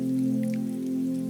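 Rain patters outside a café window under a steady low electric hum, with a few soft distinct drips standing out briefly against the constant background drone.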